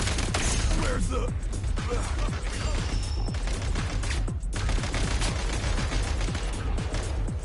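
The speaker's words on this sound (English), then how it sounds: "Where's the bullets coming from?" Rapid gunfire from a combat sequence in Genshin Impact's Snezhnaya quest, dense crackling bursts with sharp transients running continuously under a constant roar of battle noise and faint voices.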